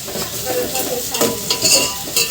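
Onion fries in hot oil in a pan as chicken is cooked, a loud close sizzle broken by scraping stirs, with no talk.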